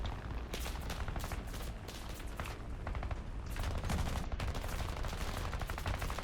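The tail gunner of a BV 238 flying boat fires a machine gun in a flight combat game, a dense, continuous rattle of rapid shots lasting the whole stretch with no speech.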